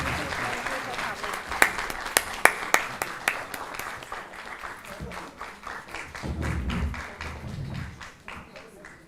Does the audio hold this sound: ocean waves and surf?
no